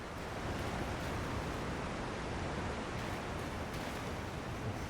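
A waterfall in the video game Elden Ring roars as a steady, dense wash of rushing water, constant and fairly close, with no talk over it.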